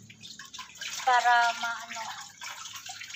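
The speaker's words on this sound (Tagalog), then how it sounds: "So, lagyan siya ng tubig." Water runs and splashes into a large silicone ice cube mould, a brief gushing pour under a voice speaking over it.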